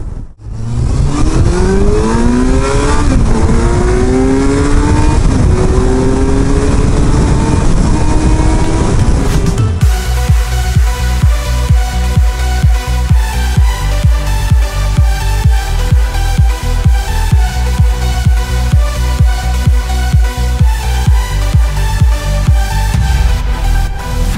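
Kawasaki Versys 1000 motorcycle engine revving past 4000 rpm, rising howls of acceleration through several gear changes, then a steady pulsing drone at high revs, loud and close without speech.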